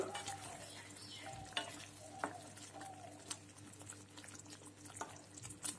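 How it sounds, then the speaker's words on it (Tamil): Homemade paneer cubes tossed in a kadai give a low steady sizzle, with a few sharp spoon-and-pan clinks scattered through it. "வீட்டுல செய்த பன்னீர். பன்னீர் சேர்த்துட்டு இதை லைட்டா புரட்டி விட்டுக்கலாம்."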